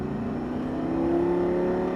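A Lamborghini Gallardo Superleggera accelerating on a race track, its engine tone rising steadily in pitch as it pulls out of a corner, heard from inside the car as a continuous strong drone.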